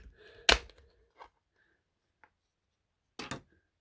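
Plastic back cover prised off a 2012 Samsung Galaxy S3 mini, a sharp snapping click followed by a few small scattered clicks and one more crackle, close by in a quiet room.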